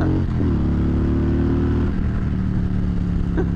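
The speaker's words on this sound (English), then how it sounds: "The only thing that's been done to this Road King is slip-ons, and it sounds marvelous." Harley-Davidson Road King touring bike with an M8 engine and Vance and Hines slip-on exhaust, idling loud and close with a deep, steady, throbbing rumble and a brief rev near the start.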